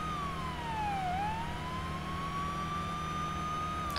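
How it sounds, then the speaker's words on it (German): A police car siren in the video game Police Simulator: Patrol Officers wails steadily, its tone dipping once and sliding back up, loud and alone over a low engine rumble. "Und natürlich gibt es natürlich Einsatz und Martins Horn."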